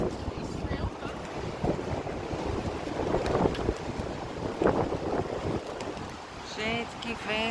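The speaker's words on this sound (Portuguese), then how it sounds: "Olha o barulho do vento." Strong wind blusters steadily outdoors near the Hagia Sophia in Istanbul, a loud continuous rush with gusts swelling and easing, while faint voices murmur underneath.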